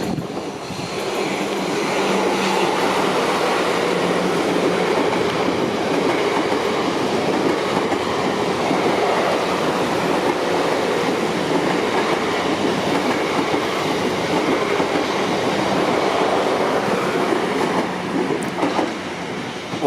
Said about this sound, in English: Well, that's a train heading off to Poole,